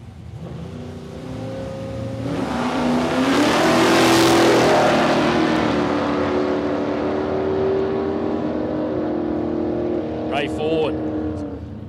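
LSX-engined long-roof wagon launching down a drag strip at a raceway, a loud engine roar that swells as it accelerates past and then fades into the distance, with a commentator talking over it.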